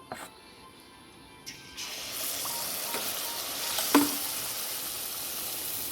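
Jackfruit malpua batter going into hot oil in a pan, with a steady frying sizzle that swells as a fresh piece drops in and a couple of soft clinks of utensils, heard up close.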